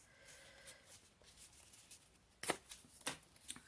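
A piece of fairly thick card being handled up close, with faint scattered rustles and sharper scraping taps toward the end, quiet and without speech.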